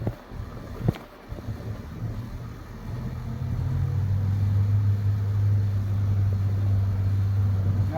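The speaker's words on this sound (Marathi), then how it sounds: "गाडीतून चाललोय रे बाबा" A car creeping along at low speed in first gear, heard from inside as a low rumbling engine drone that grows louder and steadier after a few seconds, with a faint knock near the start.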